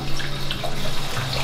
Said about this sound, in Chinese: 处理好的虾再清洗一下，先给它刷干净。